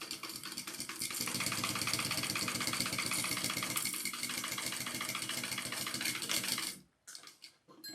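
Sewing machine running steadily as it stitches the top edge of a fabric sling pack, a dense rapid mechanical chatter that holds for several seconds, then stops abruptly, followed by faint handling noise.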